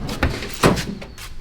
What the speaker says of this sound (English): Let's pop the door open.